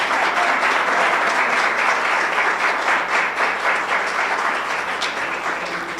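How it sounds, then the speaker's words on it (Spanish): A church congregation applauds a guest preacher at a Spanish-language Sunday morning service, a loud, dense, sustained wash of clapping filling the room that tapers slightly toward the end. "no he dicho nada y usted ya me aplaudió"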